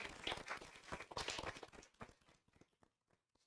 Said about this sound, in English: A round of applause for the Hughes.